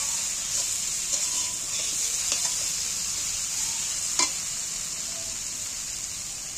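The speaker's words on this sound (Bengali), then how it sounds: "নাড়াচাড়া করে ভালো করে কষিয়ে নেব মশলাটাকে" Spice paste fries with fish pieces in a pan, a constant bright sizzle broken by several sharp spatula scrapes and clacks as it is stirred, close up and without voices.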